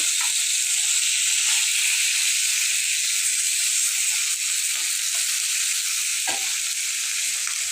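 Fish slipped one by one into a pan of sautéing onions and green chilies gives a loud, continuous hissing sizzle that runs the whole way, with a faint clink or two underneath and no talking.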